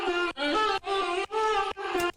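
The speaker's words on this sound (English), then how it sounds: "So we got this vocal chop. It sounds like this." A vocal chop sample without sidechain, heard alone: five sustained sung syllables of about half a second each, separated by short gaps, bright and harmonic, loud and close.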